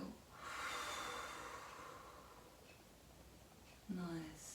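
A long, breathy exhale during a stretching class, soft and airy, trailing off gradually, followed by a short voiced sound near the end in a quiet room.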